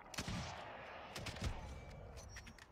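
Gunfire echoes in a video game shooter, with several sharp shots and bursts cracking over a steady background din.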